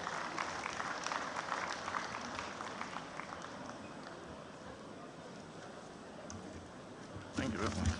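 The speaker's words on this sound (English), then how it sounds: "Please let's give him a round of applause as he comes upstairs." Audience applause at the opening ceremony of an engineering society event, a steady crowd of clapping hands heard fairly faint and diffuse throughout, continuing at an even level before a louder bump near the end.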